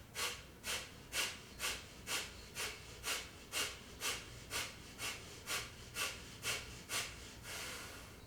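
Forceful rhythmic yoga fire breathing: about fifteen sharp, evenly spaced nasal exhalations in quick succession, close and fairly quiet, ending in a longer breath.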